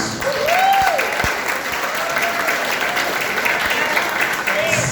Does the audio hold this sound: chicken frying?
no